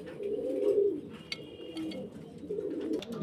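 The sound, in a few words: Roman pigeons cooing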